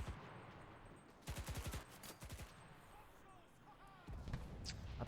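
A ZK-383 submachine gun firing in the video game Enlisted, two quick rapid-fire bursts followed by another burst at the end, over a quiet background with faint game sounds.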